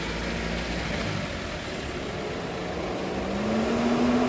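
Steady whirring of a car's electric engine cooling fan running alongside the engine in a workshop, a continuous even hum with a faint rising tone near the end.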